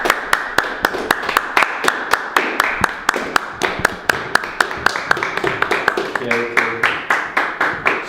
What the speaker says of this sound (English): So you guys started clapping after he clapped.